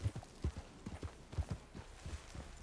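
Hooves of a team of three horses clip-clopping in a Red Dead roleplay game, a close, steady trotting rhythm of dull thuds with no one talking over it.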